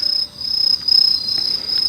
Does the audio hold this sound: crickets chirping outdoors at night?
yes